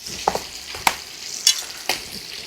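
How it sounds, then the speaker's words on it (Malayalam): Fried clams are stirred into bubbling pickle gravy as a clam pickle is finished. A few sharp scraping stirs land at irregular moments over a soft, steady sizzle, close up and with no voices. "തിളച്ചുകൊണ്ടിരിക്കുന്ന ഗ്രേവിക്കകത്തോട് നമ്മൾ വറുത്ത് വെച്ച കക്ക മിക്സ് ചെയ്യാൻ വേണ്ടി പോവാണ്"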